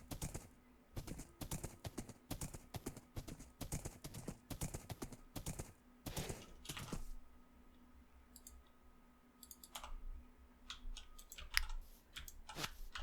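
A horse clip-clops in the Minecraft Bedrock video game, its hooves sounding as a rapid run of crisp, close clicking taps for several seconds, then a few scattered clicks and chimes over a faint steady hum.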